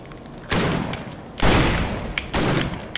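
Pistol fire in the dungeon-crawling action game Victor Vran: three heavy, broadband bursts roughly a second apart, each loud and close with a short decaying tail, over a faint steady game backdrop.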